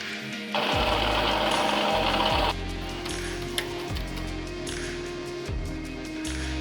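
Homemade playing cards for a virus-themed board game run through a card shuffling machine, giving a steady whirring burst up front followed by repeated low mechanical thumps and rattling riffle passes, close and fairly loud.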